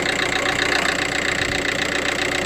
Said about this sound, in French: le compresseur il vient de se lancer